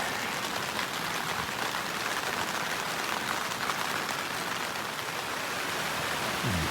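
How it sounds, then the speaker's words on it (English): Heavy rain pounding a tent while car camping, a loud, continuous, close roar of dense drops that holds steady throughout without any talking. "Yeah, rain's getting harder."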